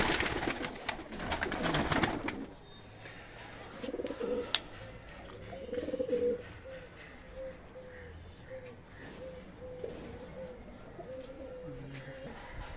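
Sylheti high-flying pigeons coo in a repeated soft, low rhythm, steady and close, after an opening of louder handling and rustling noise.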